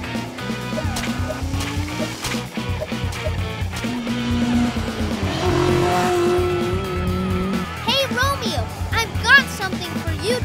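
Toy race cars speed along in a stop-motion superhero cartoon, with revving whooshes, skids and squeals mixed into loud, bouncy music and rising and falling sound effects throughout.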